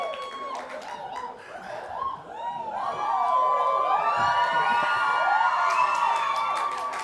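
A studio audience at a French talk show whoops and cheers loudly, with shouts and squeals building and then holding at full volume.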